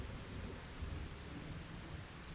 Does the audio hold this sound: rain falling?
yes